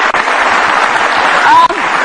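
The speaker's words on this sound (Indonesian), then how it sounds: "Kita kasih tepuk tangan." Studio audience applause during an Indonesian television news talk segment about Gerindra party candidates, a steady dense clapping wash lasting throughout, fairly loud and close.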